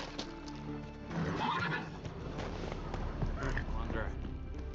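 Roach, the horse in the Witcher 3 video game, neighs and whinnies with clip-clop hoofbeats under game music and speech, holding steady and fairly close throughout.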